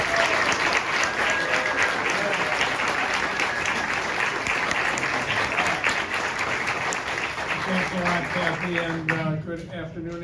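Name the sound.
applause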